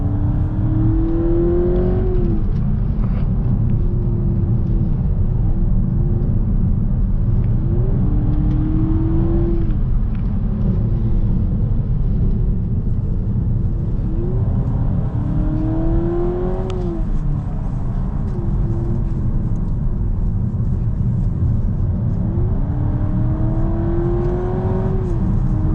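Honda Civic e:HEV hybrid engine heard from inside the cabin while driving, a steady low drone with rising and falling tonal sweeps as it revs up and settles, continuous for the whole stretch with no talking.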